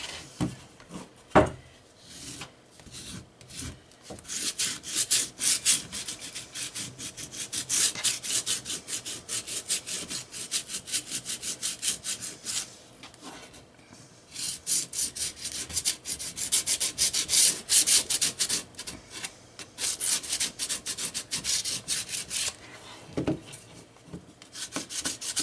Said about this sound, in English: I'm just going to go around the corners and the edges. Just scruff it up a little bit.